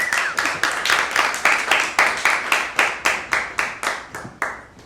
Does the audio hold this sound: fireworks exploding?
no